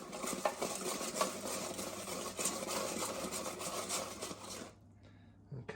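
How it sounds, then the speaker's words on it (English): Crumpet churros being tossed in cinnamon sugar in a bowl, a continuous close scraping and rubbing stir with light clinks, ending abruptly in near quiet. "I'm going to give them another mix just to make sure they're all evenly coated"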